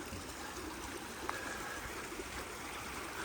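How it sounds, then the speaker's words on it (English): Small tributary stream flowing into the River Derwent in the Peak District's Hope Valley, a soft steady trickle and burble of water, faint and continuous with a brief tap partway through. "So we've got a little tributary here to the flowing into the River Derwent."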